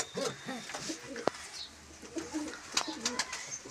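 Andara pigeons coo in a repeated soft, throaty rhythm close by, with a few sharp clicks and brief bursts of other pigeon sounds mixed in.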